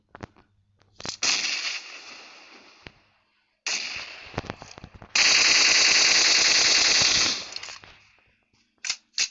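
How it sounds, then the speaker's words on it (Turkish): Grenade blasts and gunfire in a PUBG Mobile match, loud bursts of sharp cracks and rattling fire in several clusters separated by near silence, with a long dense barrage in the middle. "İki bomba saldım."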